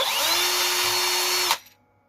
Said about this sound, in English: drilling a small hole.